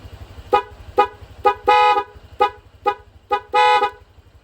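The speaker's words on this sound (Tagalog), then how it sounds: "Kapag pindot natin, busina tayo." A car horn honks repeatedly in short beeps, with two longer blasts among them, loud and close over a low idling engine rumble.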